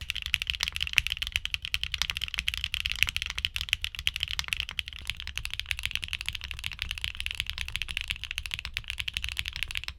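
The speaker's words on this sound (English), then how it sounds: "the Clouds return to HMX's signature bright and clacky sound profile" Fast, continuous typing on a mechanical keyboard with HMX Cloud switches gives bright, clacky, resonant keystrokes in a rapid, steady stream, close up and alone.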